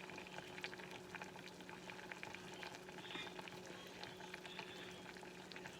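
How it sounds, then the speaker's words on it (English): Beans in a pot at a low simmer give off a steady, soft bubbling and faint sizzle that stays even throughout, with no talk over it. "I'm going to turn these beans down to a simmer now, or semi-simmer"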